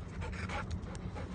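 A large five-year-old female dog panting close by, quick rhythmic breaths repeating steadily through the short stretch with no talking.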